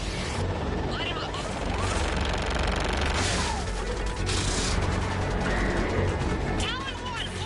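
Air strike in Mass Effect 3, dense rattling gunfire and blasts layered over a constant loud battle roar, with sharp bursts and crashes scattered throughout.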